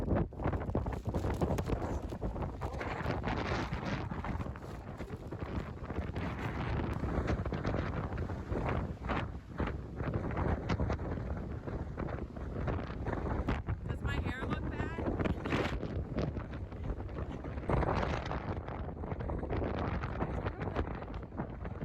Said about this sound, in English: see what this windy day is like